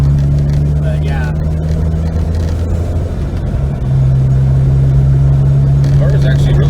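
A DeLorean with reworked front suspension cruises at over 60 mph, its engine giving a loud, steady drone with a constant low hum, and voices can be heard faintly within the road noise.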